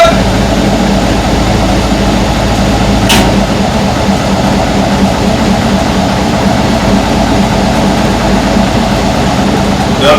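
Heavy engine running steadily and loudly after starting up, a dense continuous rumble with a brief click near the start, close by with no talk over it.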